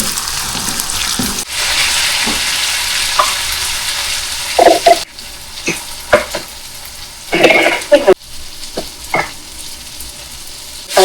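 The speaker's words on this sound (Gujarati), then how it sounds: "હવે ડુંગળી થાય છે, પહેલા ગાર્લિક પેસ્ટ નાખી," Chopped onions fry in oil over garlic paste in a home kitchen in London, a steady close sizzle broken by repeated scraping stirs and clacks of a utensil against the pan, with no voices.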